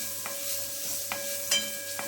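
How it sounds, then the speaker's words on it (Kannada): Green chillies sizzle in hot oil in a pan while a spoon stirs them, giving a steady close frying hiss broken by three or four soft scraping strokes. "ಚೆನ್ನಾಗಿ ಗರ್ಗರಿಯಾಗಿ ಹುರ್ಕೊತೀನಿ ಇದನ್ನು."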